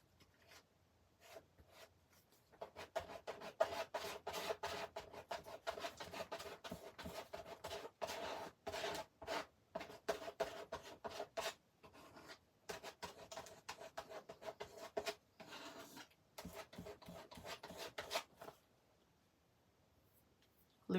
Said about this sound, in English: So I'm actually going to do a bit of scraping.